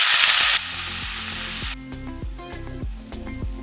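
Water spinach frying in a pan with garlic and onion, a loud hiss bursting at the start then settling into a steadier sizzle, with background music playing over it.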